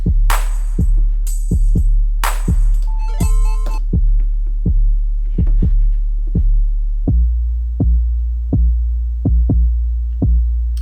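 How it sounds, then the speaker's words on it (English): Punchy kick drum from a beat programmed on a Maschine, hitting in a steady repeating pattern with deep low thumps, alongside hi-hat and snare hits early on and sparser bass-heavy kicks toward the end, loud and upfront. "I think that kick sounds awesome"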